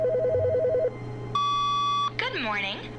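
In the video game The Stanley Parable, an electronic telephone warbles in a rapid trilling ring, then a steady beep tone sounds before a voice begins speaking.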